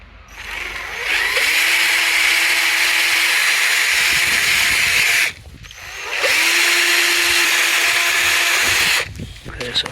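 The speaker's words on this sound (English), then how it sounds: "I'm drilling these the cut face, but at 90 degrees to the actual cut face" A power drill bores into a wood panel at an angle to the cut face in two long, steady whining bursts, each running several seconds, separated by a brief pause and ending abruptly.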